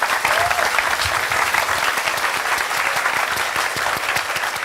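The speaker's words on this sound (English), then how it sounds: "let's give them a big round of applause" Audience applause at a GT World Series esports racing event in Tokyo, a dense, steady wash of clapping that holds at a constant level throughout.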